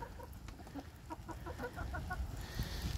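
Hens and a rooster cluck in a farmyard coop, a quiet run of short, rhythmic clucks over a low steady background with no talking.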